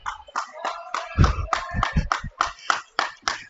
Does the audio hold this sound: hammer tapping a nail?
no